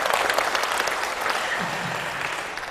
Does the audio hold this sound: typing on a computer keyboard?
no